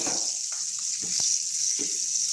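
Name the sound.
pork chop frying in a pan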